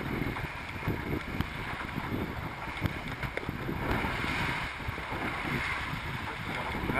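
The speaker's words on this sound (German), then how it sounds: "da kommt Wind von der Insel" Wind rushes steadily across the microphone, a constant low roar and buffeting, with the faint wash of water around a moving sailboat.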